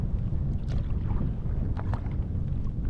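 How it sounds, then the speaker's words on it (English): Wind rushing steadily while a solo canoe is paddled upriver on a long trip toward Dawson City, a low constant rumble of air with a few soft water splashes from the paddle, no speech. "So yeah, the wind,"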